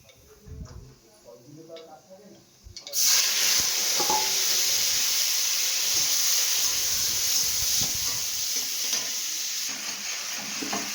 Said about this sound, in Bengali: এবার দিয়ে দেবো একটু কালো জিরে ফোড়ন দিয়ে দেবো এখানে টমেটো কুচি